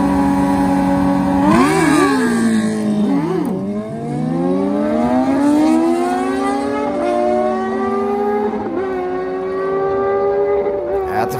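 Short-wheelbase Suzuki Hayabusa drag bike launching down the drag strip at a motorcycle shootout: loud, rising engine wail that climbs through several gear shifts, with an overlapping second engine, fading as the bikes pull away.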